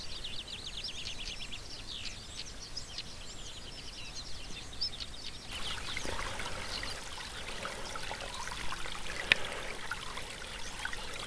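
The headwater of a mountain stream, fed by runoff on Moel Famau, trickles steadily nearby. Birds chirp in the background at first, then the water grows fuller and louder partway through.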